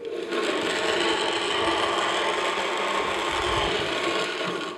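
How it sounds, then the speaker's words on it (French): Blender mixing green peas with a little iced water at low speed, a steady loud grinding whir with rattling texture that runs continuously from start to finish without talk. "Et là, on va mixer à basse vitesse pour commencer."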